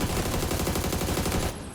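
A rapid burst of automatic gunfire in PUBG, loud and continuous, rattling for about a second and a half before cutting off.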